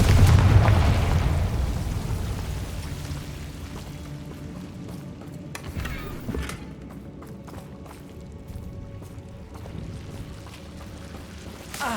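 Confringo fire spell blasting in Hogwarts Legacy, a loud booming explosion at the start that decays into a rumbling tail, with a further thud partway through amid game ambience.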